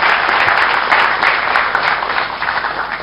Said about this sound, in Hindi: बहुत बड़ी तालियां